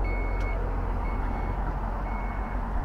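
A vehicle's powered tailgate closes automatically, with a sustained electronic warning beep that sounds briefly, then resumes in shorter tones over a steady low rumble.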